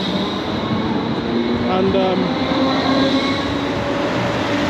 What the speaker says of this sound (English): So that's the tram I was talking about,